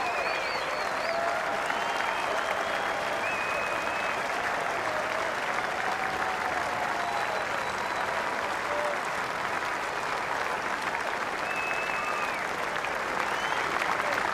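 A Wellington crowd at a Test cricket match between New Zealand and England applauds a century, with dense, sustained clapping holding steady throughout and occasional faint whistles and cheers mixed in.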